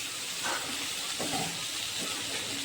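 Eggplant slices frying in hot oil in a pan, a continuous close sizzle with a few faint scraping stirs through it.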